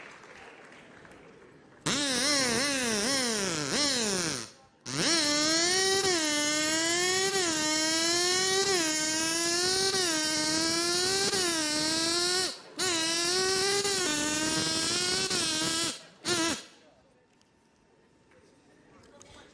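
A comedian on stage imitates a flooded moped engine sputtering, a long buzzing, wavering drone that rises and falls, broken by a few short pauses before it stops.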